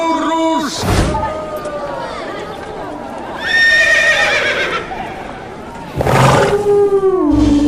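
A horse neighs in loud, quavering bursts, with whinnies rising and falling several times over music and voices in the background.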